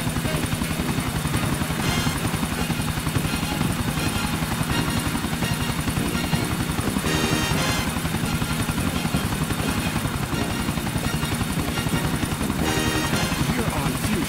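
A helicopter in Grand Theft Auto IV flies with loud, continuous rotor chopping and engine roar close by, while game characters talk over it.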